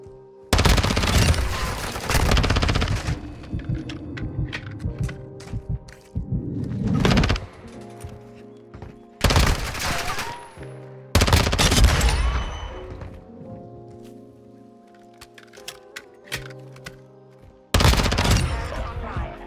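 Heavy shotgun blasts in a video game, loud and close, arriving in several separate volleys with ringing pauses between them and faint game sounds underneath.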